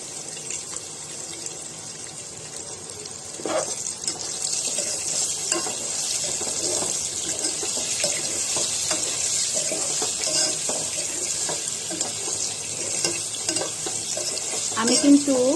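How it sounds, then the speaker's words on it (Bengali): Potatoes frying in oil seasoned with turmeric and salt, a steady soft sizzle with occasional stirring scrapes and clinks, growing louder near the end. "বেরেস্তা ভাজা তেলের মধ্যেই আমি এই আলুগুলোকে হলুদ লবণ দিয়ে ভেজে নিব"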